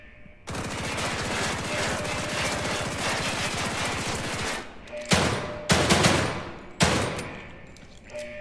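Rapid automatic gunfire in the video game The Evil Within 2, a dense sustained burst for several seconds followed by three shorter bursts, loud and close, with no talk.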